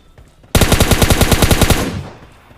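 A loud, close burst of automatic gunfire in PUBG Lite on the Golden Wood map: about fourteen rapid, evenly spaced shots over roughly a second and a half, then a short fading tail, with no talking.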